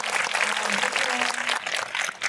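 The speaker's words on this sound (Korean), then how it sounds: "오늘 큰 박수 부탁드립니다" An audience at a post-screening film talk event applauds steadily, a dense sustained clapping from a crowded theater, with some speaking over it.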